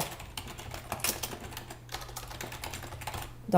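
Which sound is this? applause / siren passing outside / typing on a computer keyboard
typing on a computer keyboard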